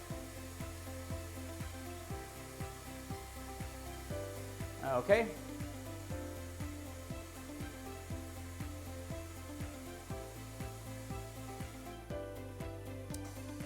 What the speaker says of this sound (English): we have 5 seconds left on the top spin rinse dryer